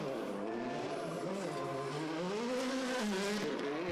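Thierry Neuville's Hyundai WRC rally car drives past close by, its engine pitch rising and falling through gear changes, loud and continuous with no talk.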